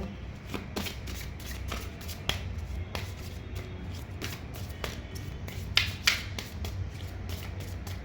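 Tarot cards shuffled by hand, a steady run of crisp riffling snaps and flicks repeating close up, with occasional sharper slaps and no talk.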